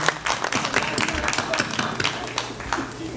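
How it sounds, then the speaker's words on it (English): A crowd applauds with dense, continuous clapping, moderately loud and close, with some voices mixed in. "So we applaud you."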